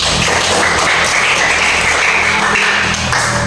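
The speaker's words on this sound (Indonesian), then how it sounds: "Ya, tepuk tangan." A class in a Christian religious education lesson claps their hands together, a loud, dense, steady burst of close clapping that fills the whole short stretch without pause.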